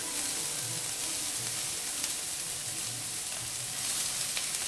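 White spring onion and regular onion sizzle and fry in a pot for a one-pot minced sausage meal, a steady close hiss of frying that runs throughout with no talking.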